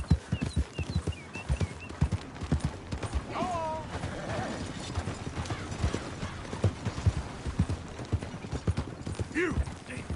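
Hooves clip-clop at a steady, close, rhythmic gait as a horse is ridden, with a brief whinny partway through and speech scattered over the hoofbeats.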